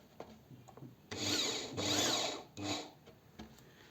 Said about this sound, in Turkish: şöyle matkabı tutarak kontrollü bir şekilde yavaş yavaş vidalıyorum.